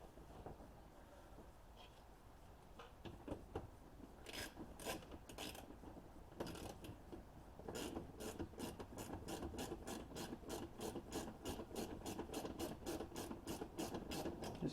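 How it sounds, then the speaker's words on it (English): A ratchet with a 9/32 socket drives the screws of a mud flap on a 2021 Jeep Gladiator diesel, making scattered clicks at first and then a steady run of quick, close pawl clicks. "This is where your 9/32 socket will come into play."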